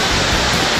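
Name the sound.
Mae Kampong waterfall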